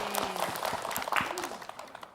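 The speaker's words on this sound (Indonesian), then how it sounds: "Tepuk tangan dong." Scattered claps from an audience at an Indonesian Islamic sermon, fairly faint and brief, a loose patter of hands rather than a full ovation.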